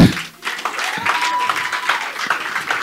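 A crowd at a worship gathering cheers and claps, a loose mix of applause and shouts with scattered whoops and a rising tone partway through, fairly close and lively.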